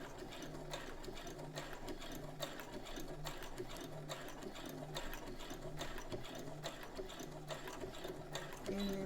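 A sewing machine stitches a dress collar in a fast, steady, evenly pulsing run, fairly quiet and close, with a faint voice in the background.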